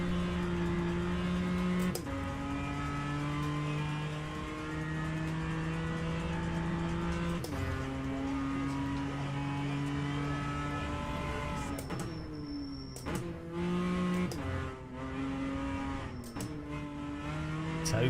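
A race car engine in the rFactor 2 sim racing game at Tobin Raceway, running on hard stone tyres, drones and revs continuously with gear-shift changes in pitch, steady and loud throughout with no talk.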